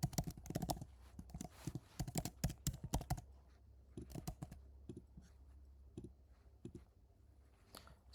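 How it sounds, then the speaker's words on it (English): Fast bursts of clicking keystrokes on a computer keyboard, loud at first and then lighter and sparser, typed close by on a Mac with no talking. "I'll just type the same details."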